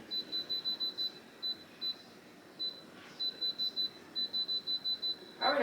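An air fryer giving a run of short, evenly spaced electronic beeps, with brief pauses between groups, set against faint room noise and ending with a quick clatter.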